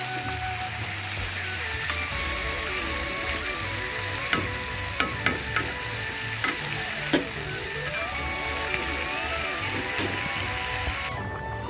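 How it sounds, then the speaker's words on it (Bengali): A vegetable curry sizzles and cooks in a pan, a continuous close frying hiss with a low steady hum beneath and a few sharp clicks. "এদিকে দেখো আমি এখন তরকারিটা বসিয়ে দিয়েছি।"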